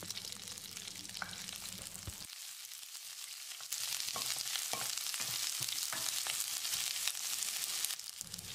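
Chopped shallots sizzle in hot oil with urad dal, curry leaves, dried red chilies and asafoetida for a buttermilk okra curry, a close, continuous crackling fry with occasional stirring scrapes and pops.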